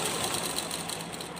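A sewing machine runs steadily, stitching folded fabric with a fast, even mechanical whir, close and uninterrupted for a brief moment.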